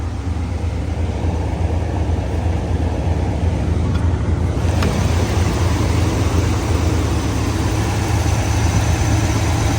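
A 7.4 liter 454 V8 engine idles with a steady, deep rumble, constant and close, with no voices; the engine has a misfire.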